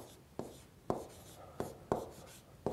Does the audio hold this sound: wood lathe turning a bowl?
no